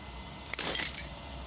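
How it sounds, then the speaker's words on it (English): Brief glass shattering in the video game Slay the Princess, a single crisp break with a short scatter of tinkling fragments, fairly faint and alone. "As the final fragment of glass shatters"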